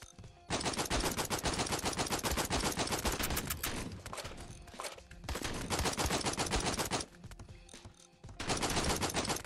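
Machine gun nest firing in a video game, loud, rapid sustained bursts of automatic gunfire in long strings with brief gaps between volleys.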